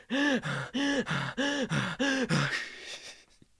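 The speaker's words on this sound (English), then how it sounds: "Archibald does this little breathing problem" A cartoon character makes a wheezing breathing-problem sound: five strained, voiced gasping breaths in a steady rhythm, loud and close, ending in a trailing exhale and a faint click.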